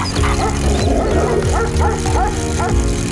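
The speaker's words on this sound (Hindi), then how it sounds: "कुछ कुत्ते राजेश की साइकिल को देखकर भौंकने लगते हैं" Several village dogs bark and yip repeatedly at a bicycle in a loud, overlapping chorus, close by, with a steady background hum.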